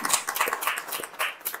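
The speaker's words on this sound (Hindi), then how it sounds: "एक बार जोरदार तालियां बच्चे" A crowd applauds a student at a 12th science result celebration: a brief, dense burst of clapping from many hands, fairly loud and close, with no voices over it.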